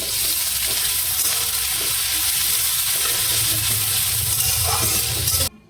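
Prawns coated in salt and turmeric fry in hot oil with garlic, onion and chilli, giving a loud, steady, dense sizzle that runs unbroken for several seconds before cutting off abruptly near the end.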